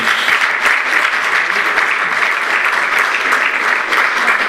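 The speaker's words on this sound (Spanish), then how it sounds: "Un aplauso para Lorena, por favor." Steady audience applause at a university panel discussion, dense continuous clapping throughout with no pauses, close and fairly loud.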